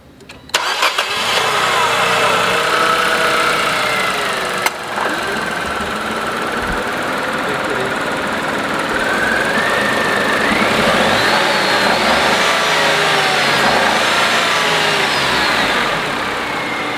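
A Nissan Magnite's 1.0 litre turbo petrol engine cranks and catches, then settles into a loud, steady idle with a rising whine as revs briefly climb, heard up close.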